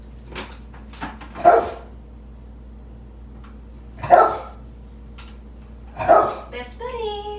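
A dog barks in three sharp bursts spaced a few seconds apart while a blender runs during hummus preparation, with a steady motor hum beneath and brief voice sounds between the barks.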